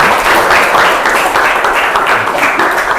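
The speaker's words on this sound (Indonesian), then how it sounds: "Untuk itu kita tepuk tangan untuk kita semuanya." A class of students bursts into loud, sustained applause during a lesson, with dense clapping close by that fills the whole moment without a break.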